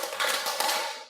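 A classroom full of students clapping together in a concentration exercise led by the teacher: a dense, loud patter of overlapping hand claps, swelling in a couple of accented beats before quickly stopping.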